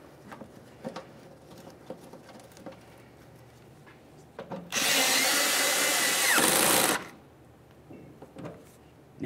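A power tool driving a 5.5mm fender liner mounting bolt on a 1998-2011 Ford Ranger, one loud close whir lasting about two seconds amid light handling clicks and rustles.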